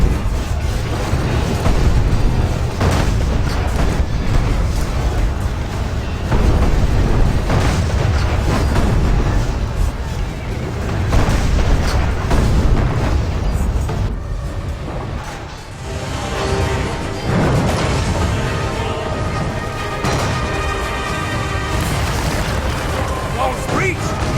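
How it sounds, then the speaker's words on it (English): Siege tank cannon firing at an enemy fortress in the ArcheAge game, heavy booming blasts and rumbling impacts layered in a dense, loud battle mix with continuous game sound throughout. "Press R to fire at the enemy fortress 3 times."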